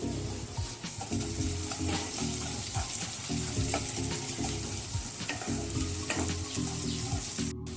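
Grated ginger and chopped green chillies fry in a pan at home, a steady close sizzle with stirring scrapes running throughout, with no voices.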